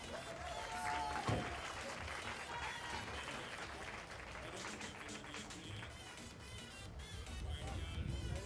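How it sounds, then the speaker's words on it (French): An audience claps steadily through a school prom arrival where graduates pull up in vehicles like a white Ford F-150 pickup, the applause a dense, continuous patter with crowd murmur beneath. "On applaudit Anaïs."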